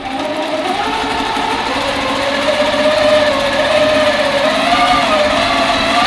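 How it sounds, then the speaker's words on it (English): Sewing machine running a steady line of stitching across fabric for a pattern, a continuous even whir close by with no pauses, no voices over it. "I will needle up, needle down, and stitch a line across"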